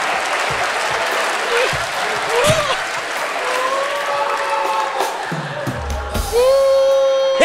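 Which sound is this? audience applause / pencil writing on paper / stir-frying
audience applause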